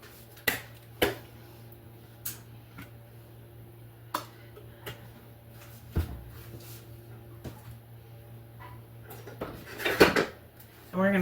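Salt-and-pepper-seasoned potatoes being tossed in a bundt pan, heard as scattered light clinks and taps of a utensil against the pan over a quiet background hum, busier near the end, with a voice talking in places.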